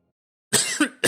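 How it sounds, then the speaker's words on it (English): A man coughs into a microphone: three sharp, close coughs in quick succession after a brief silence, loud and harsh with no speech around them. "I didn't mean to just cough at you all"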